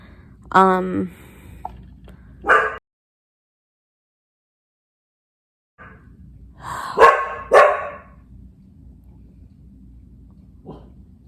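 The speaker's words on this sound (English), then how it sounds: "now he's barking that he wants to go outside" A dog barks a few times in short bursts, with a long quiet gap between the two groups of barks, fairly close by.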